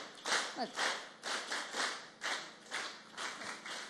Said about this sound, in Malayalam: ആ കൗണ്ടിനനുസരിച്ച് നിങ്ങൾ ക്ലാപ്പ് ചെയ്യണം